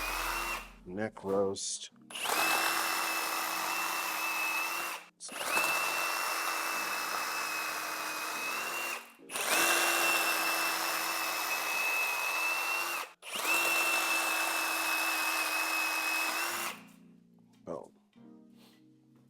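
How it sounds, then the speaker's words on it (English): Sawzall reciprocating saw cutting through a whole deer carcass during butchering, running in four long steady bursts of loud buzzing separated by brief pauses, with a few short words spoken at the start. "So now's probably time for the Sawzall."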